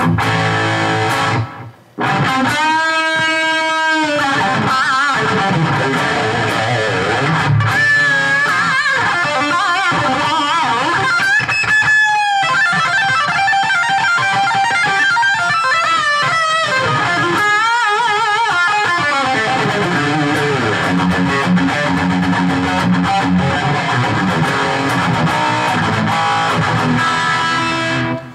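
Distorted electric guitar plays through a Peavey Vypyr 100 Pro amp on a stock sound, with sustained notes and chords trailing into echoing delay repeats; loud and continuous, no talking.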